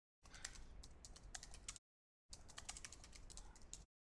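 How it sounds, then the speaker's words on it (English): Quick typing on a computer keyboard, close and quiet, in two dense bursts of rapid key clicks separated by a short pause. "I'll just type it quickly."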